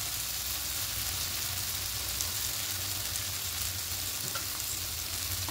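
Spiced masala sizzles steadily in a pan with fried potatoes, a dense and constant frying hiss with light stirring, no talking.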